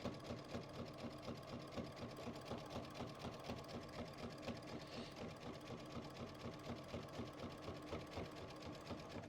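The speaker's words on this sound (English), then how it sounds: "we're just kind of finishing our edges with this zigzag stitch" Sewing machine running a steady zigzag stitch along the quilted edges of a fabric backpack, a fast even mechanical chatter heard alone, close and fairly quiet throughout.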